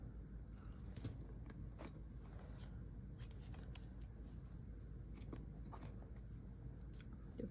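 Scissors snipping through paper for the inside pages of a National Parks photo album: a steady run of quiet, close crisp cuts and rustles with no talking.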